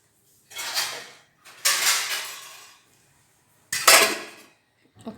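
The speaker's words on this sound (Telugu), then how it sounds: "దీనికి కాసేపు మూత పెట్టేద్దాం." A lid set onto a pan of mushroom curry, heard as three separate clanking, scraping metal knocks of cookware a second or two apart, close and fairly quiet, with no talk.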